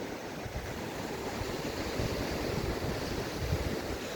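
Steady surf of the Black Sea washes onto a beach at Prymorsk, Odesa Oblast, Ukraine, in a continuous soft roar, with gentle wind and no voices.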